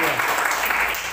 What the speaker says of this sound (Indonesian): Beri tepuk tangan yang terbaik bagi Tuhan.